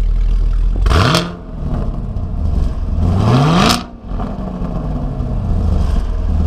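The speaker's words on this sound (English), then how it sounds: "So if you're wondering what the secondary cat delete sounds like" Chevrolet Camaro with its secondary catalytic converter deleted, revving hard twice in loud rising bursts of exhaust roar, each falling back to a steady rumbling idle between them.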